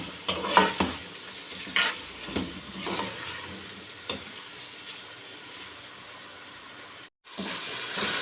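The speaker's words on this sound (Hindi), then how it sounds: "और गोश्त को भून लेते हैं।" Beef frying in a pan with green chili and tomato, a soft sizzle under intermittent scraping stirs, fairly quiet and close, with one brief drop to near silence near the end.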